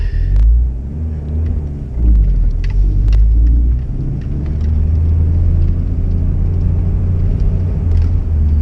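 A 1990 VW Corrado G60 driving at low revs, its engine a deep, steady rumble inside the car with brief swells as the throttle opens, heard alone without talk.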